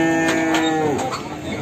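Cattle at a calf market, with a single drawn-out moo sounding loud and close over steady crowd hubbub and background noise.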